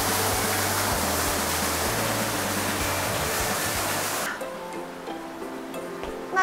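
A waterfall inside a large limestone cave roars as a loud, steady rush for several seconds, then drops sharply to a quieter, echoing background hum.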